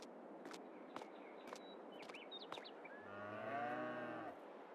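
A single low cow moo in Farming Simulator 22 sounds near the end over faint background ambience, with a few light clicks and taps earlier.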